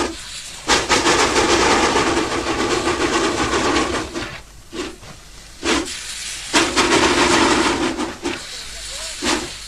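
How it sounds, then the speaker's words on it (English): A 1920 Baldwin steam locomotive in Negros, Philippines, hauling a heavy train, chuffs hard in heavy, hissing bursts, with short pauses between the labored exhaust beats. "This engine, caught struggling to find its feet with a heavy train"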